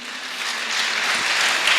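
A church congregation at EAR Kimironko applauds together, a dense, steady wash of clapping that stays loud and even throughout, with no speech over it.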